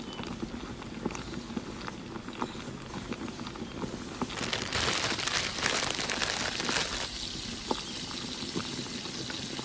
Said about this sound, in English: Simmer over low heat until the ribs is tender.